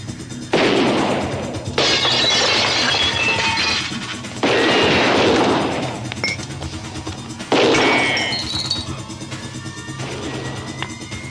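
Gunfire in a Cantonese action film scene, several loud bursts of bangs and crashing blasts separated by short pauses, with debris-like clatter between volleys.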